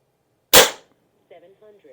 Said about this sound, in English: let's send 5 shots of the FX down range and see how we do